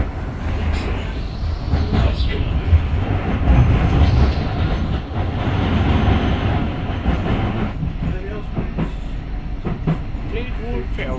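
A tram passing at a stop, a loud rumbling rail roar with rhythmic wheel clatter that swells and fades over several seconds, with faint squeals near the end.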